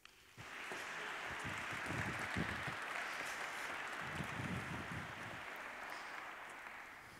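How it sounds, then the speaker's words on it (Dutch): A school audience gives a warm round of applause at a College Tour style interview event, a dense steady clapping that starts abruptly and continues without letup. "Ik wil graag een warm applaus voor Milou Scholten."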